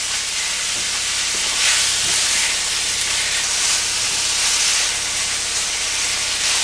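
Meat frying in a pot as paella is cooked at home, a steady close hiss and crackle of sizzling fat running unbroken throughout with no talking.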